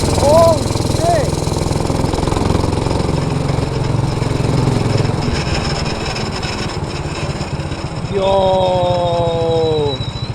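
A Predator 212 engine runs on an MB200 minibike with a loud, steady, close-up drone that rises into a higher revving whine near the end, with voices over it.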